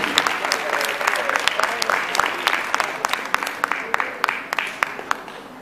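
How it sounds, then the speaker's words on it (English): Applause for dance performers at a 2015 tango formation show, with sustained clapping from a sizeable crowd and sharper individual claps popping out over the steady wash, moderately close and continuous throughout. "Nice round of applause once again for all of our performers, ladies and gentlemen"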